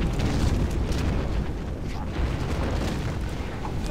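Bombs explode in a World of Warcraft dungeon fight at Siege of Niuzao Temple, a dense, continuous rumble of booming blasts and battle noise, loud and unbroken, with a voice talking underneath.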